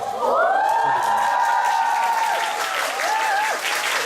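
A theater audience bursts into loud applause mixed with cheers and high-pitched whoops, with a sustained shout sliding over the clapping for several seconds before a few shorter cries.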